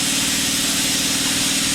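A JEGS Cut 60 plasma cutter slices through steel, giving a loud, steady, close hiss with a low electrical hum underneath, unbroken and with no voices.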